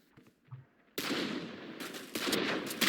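Rapid automatic gunfire from the video game Valorant bursts in loud and sustained after a quiet start, rattling on in dense volleys with a brief dip midway.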